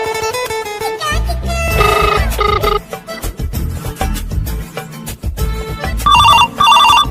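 A telephone rings with bright, repeated electronic ringtone bursts in a close, loud, rhythmic pattern, set against busy dramatic music that surges and cuts between the rings.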